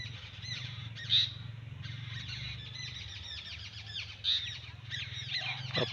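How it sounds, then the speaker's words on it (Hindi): Birds squawk and chirp in agitated alarm near their nests after a cat attack, sharp calls repeating over a low steady background hum, with two louder shrieks standing out. "ये परिंदों का शोर आपको महसूस हो रहा होगा।"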